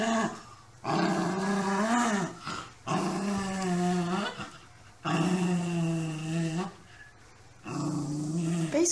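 A dog guarding frozen meat growls in long, throaty, rumbling bursts separated by brief pauses, sounding loud and close.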